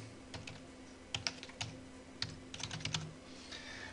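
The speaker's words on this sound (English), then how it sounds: "I'll just type this one in" Quiet, irregular clatter of computer keys being typed in short bursts, close by, with a faint steady hum in the background.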